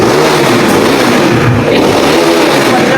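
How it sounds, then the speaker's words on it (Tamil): A KTM RC 390 motorcycle with a modified exhaust revs loudly and continuously up close, its engine note rising and falling in a raw, throaty roar. "இப்போ வந்து பார்த்தீங்கன்னா வண்டியோட எக்ஸாஸ்ட் நோட் எப்படி இருக்குன்னு காட்டுறேன்"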